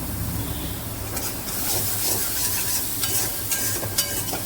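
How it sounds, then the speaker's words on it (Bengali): Spice paste with turmeric sizzles in oil in a pan while a spoon stirs and scrapes it, a steady close frying hiss with clinks of the spoon. "তো চলো মশলাটাকে আরও 5 মিনিট কষিয়ে নিই"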